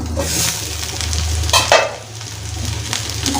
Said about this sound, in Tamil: எல்லாத்தையுமே லைட்டாக மிக்ஸ் பண்ணி விட்டுக்கலாம்